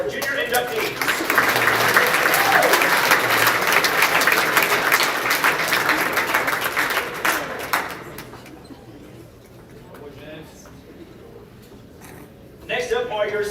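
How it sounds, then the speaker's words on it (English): An awards-ceremony audience applauds junior inductees, loud sustained clapping for about eight seconds that fades out, followed by a quieter stretch with a person speaking. "Let's give a round of applause for your junior inductees."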